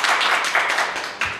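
A crowd of political party members in a Korean jjimjilbang bathhouse claps for a Progressive Party candidate, giving a short burst of dense, steady applause that swells again near the end.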